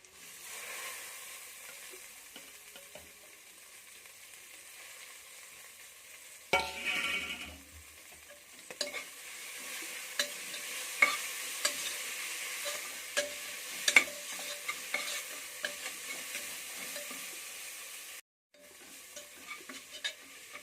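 Coriander leaves and mint frying in ghee in a pan and being stirred, with soft crackling sizzle and scraping strokes. A louder burst comes as the herbs go in, then steady close frying with irregular stirring clicks.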